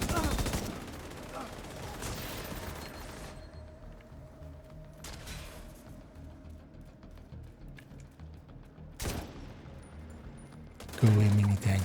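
Video game gunfire during a wave defense, bursts of rapid shots at the start, then a quieter stretch with a low hum before sharp blasts return near the end.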